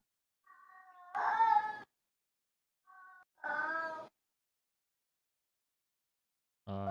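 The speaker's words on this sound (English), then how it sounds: "I hope that's a cat, not a kid being tortured." A cat meows and yowls somewhere in the background during a Dungeons & Dragons game night, two drawn-out meows a couple of seconds apart and the start of a third, moderately loud against otherwise quiet surroundings.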